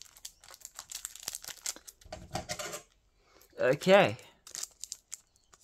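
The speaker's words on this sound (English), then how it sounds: "this one is a little bit harder to open, so we're just gonna need my scissors" Pokémon card pack cut open with scissors, giving short crinkling snips and tearing foil bursts close up, with a voice speaking briefly between them.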